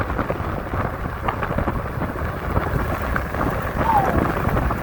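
Cold wind roars steadily past an e-bike rider under $1000 gear, a dense continuous rumbling buffet without breaks, loud and close, no talk.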